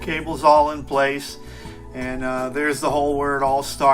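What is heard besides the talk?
No distinct noise like a dog, phone or traffic.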